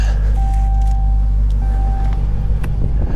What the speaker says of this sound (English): It's dinging at me because I don't have the fob in the car.